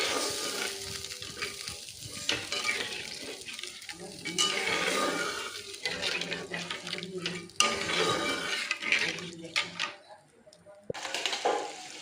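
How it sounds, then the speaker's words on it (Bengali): Fish curry gravy for a pomfret jhal bubbling and simmering in a pan, a steady close sizzle with occasional stirring and utensil clinks, without talk. "এবার ঝোলটাকে একটু ফুটাতে দিব"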